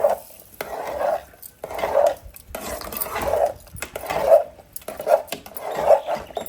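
Tempered curd rice being mixed with a spoon against a metal pot or vessel, a steady series of scraping, clinking strokes roughly every second, close and fairly loud, with no talking.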